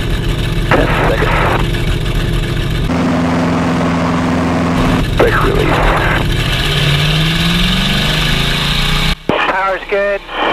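Light aircraft engine at takeoff power during the runway 30 takeoff roll at Visalia, a steady loud drone under radio calls and close cockpit talk, with brief wind buffeting near the end.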